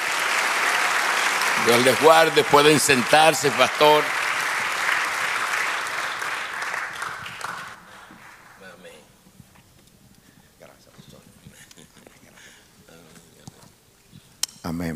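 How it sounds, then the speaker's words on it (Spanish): A church congregation applauds with loud, continuous clapping that fades after several seconds, after which someone speaks quietly over the hushed room. "Denle un aplauso al Señor."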